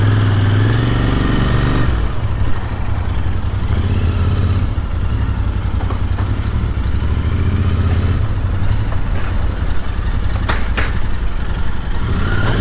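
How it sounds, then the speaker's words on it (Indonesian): A Royal Enfield Interceptor 650 twin engine rumbles loudly and steadily throughout, with a deep throbbing idle and occasional revs, close up and with no talking. "Korang dengar bunyi dia eh? Memang macam V-twin bro."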